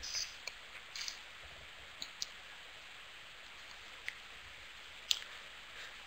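Faint, crisp computer mouse clicks, a couple of quick double clicks scattered over a quiet background.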